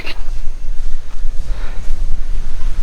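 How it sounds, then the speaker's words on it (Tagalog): Loud, gusty wind buffeting the microphone, a rough low rumble that surges and dips constantly with no other sounds standing out. "Yung hangin na yan, ang lamig niyan."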